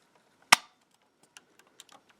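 Toy blaster accessory for a third-party Transformers figure firing with one sharp, close plastic snap, followed by faint small clicks and rattles of handling.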